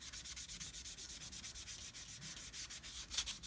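A lemon lime ink pad is rubbed back and forth across a rubber stamp with quick, regular scratchy strokes. The sound is soft and close, with no talking.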